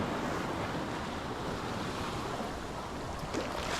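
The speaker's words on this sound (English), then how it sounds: "The waves are so nice, oh so nice, enjoyed by lots of people." Ocean surf washes continuously onto a California beach, a broad steady roar of breaking waves with some wind noise on the microphone.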